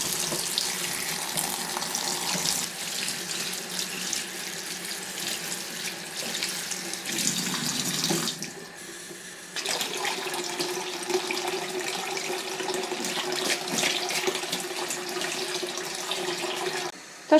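A kitchen tap runs steadily and fairly loudly while fresh nettles are rinsed under it for a traditional Albanian pie, with a short break in the flow midway before the water resumes.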